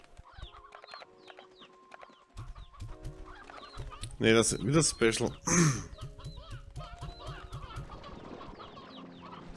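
Chickens cluck and squawk in the video game Slime Rancher 2, a busy flurry of fowl calls with one louder burst of squawking in the middle, while someone talks over them in German.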